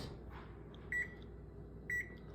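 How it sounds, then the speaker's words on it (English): Microwave oven humming steadily while heating a veggie soup, a low continuous drone with two short electronic beeps. "Then microwave this."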